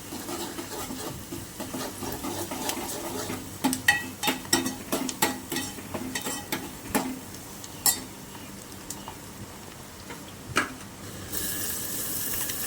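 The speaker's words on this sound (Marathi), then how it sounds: "हलका लाल रंगाचा होईपर्यंत कांदा आपल्याला भाजून घ्यायचा आहे" Sliced onion and crushed garlic fry in oil for a village-style mutton rassa curry, giving a constant close sizzle broken by a run of quick stirring scrapes and taps against the pan, then occasional single knocks.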